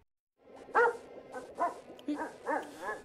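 A dog whimpers and yips in a series of short, high, plaintive cries, four or five close bursts after a moment of silence, each rising and falling with a whiny tone.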